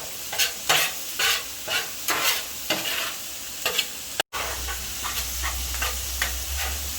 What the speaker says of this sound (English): I'm just going to mix this together and get it cooking